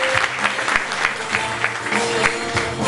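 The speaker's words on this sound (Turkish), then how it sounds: "kuvvetli alkışlarınızla davet ediyoruz." Audience applauding at a high school award ceremony, a steady dense patter of clapping hands sustained for the full few seconds with no talk over it.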